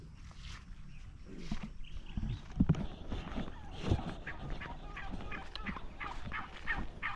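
Turkeys gobbling outdoors among grass, several rough bursts of calls at irregular intervals with some shuffling noise, moderately near.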